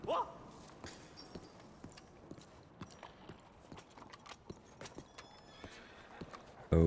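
Horse hooves in the Red Dead Redemption 2 video game, a steady series of soft clip-clop steps at a walking pace, fairly quiet, with a whinny at the start and a louder burst at the end.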